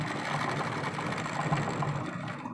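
A sewing machine top-stitching a homemade blouse, running in a continuous, even whir at moderate volume, close by and with no talk.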